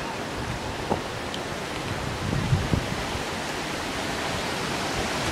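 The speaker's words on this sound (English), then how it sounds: "you can see the waterfall right here. It goes over the edge there." A waterfall at Glendale Shoals Greenway and Preserve pours over a ledge, a steady, broad rushing roar heard from nearby, with a few faint knocks and shuffles on top.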